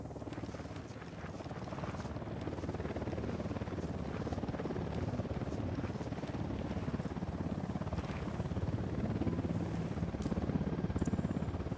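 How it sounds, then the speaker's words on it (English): Steady helicopter rotor thrum from the video game Ghost Recon Wildlands, a dense, rumbling wash of noise, moderately distant and continuous throughout, no speech. "Helicopter incoming."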